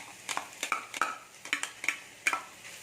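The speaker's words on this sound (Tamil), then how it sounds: "இதையும் சேர்த்து நல்லா பரப்பி விட்டுறேன் நல்லா ஃப்ரை ஆகணும்" Fish and sautéed onions for fish puttu are stirred in a frying pan, the utensil clinking and scraping against the metal in a steady rhythm about twice a second over a faint sizzle.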